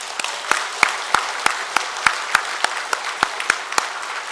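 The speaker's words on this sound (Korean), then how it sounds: "우리 하나님께 영광의 박수 하겠습니다." Church congregation applauding in praise during a Sunday service: a steady, rhythmic round of unison clapping, with roughly a dozen even beats about a third of a second apart and softer scattered claps beneath, at moderate distance.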